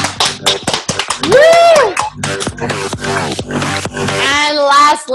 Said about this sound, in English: Another round of applause for mastermind groups, for all your mastermind groups